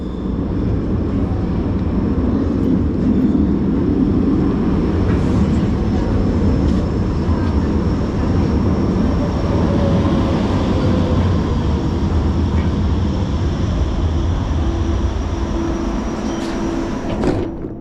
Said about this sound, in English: we're going to take a look at the arrival of this train now